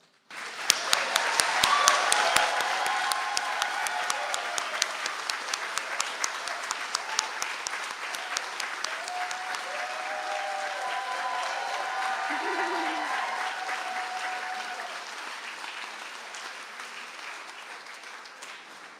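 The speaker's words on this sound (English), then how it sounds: "for a round of applause" A hall audience at a graduation conferring ceremony applauds nursing graduates, sustained sharp hand claps building quickly then holding steady for many seconds before gradually thinning, with faint murmuring voices beneath.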